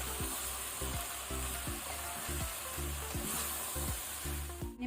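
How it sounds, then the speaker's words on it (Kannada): Onions frying with turmeric in a pan for a mutton masala, a constant close sizzle under repeated rhythmic stirring scrapes. "ಈಗ ನಾವು ಇದನ್ನು 2 ಮಿನಿಟ್ಸ್ ಫ್ರೈ ಮಾಡ್ಕೊಳ್ಳುವ"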